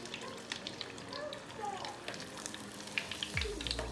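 Shrimp frying in a pan gives a soft, crackling sizzle at low level, with scattered pops and faint background murmurs, ending in a low thump.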